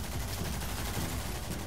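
Rapid SMG gunfire in the shooter game Rogue Company, a dense sustained burst of shots lasting the whole moment with no talk over it.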